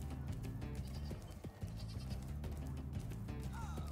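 Sheep in the video game Spyro Reignited Trilogy bleating repeatedly in quavering cries, moderately loud over game music and effects.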